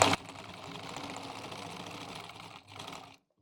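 A sewing machine runs steadily for about three seconds while stitching a fabric pouch, a fairly quiet, even mechanical whir that cuts off abruptly at the end.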